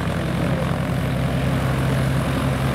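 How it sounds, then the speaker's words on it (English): A Piper propeller airplane with a V-tail at an aviation festival gives a steady, continuous engine drone with no break and no talk over it. "I think this one is the Piper"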